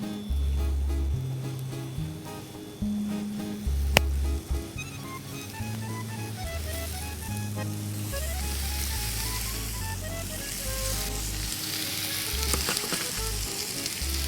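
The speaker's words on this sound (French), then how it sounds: "on met les petites boulettes dans la poêle" Small lamb meatballs frying in a pan of oil with browned garlic give a steady, soft sizzle that runs continuously beneath background music.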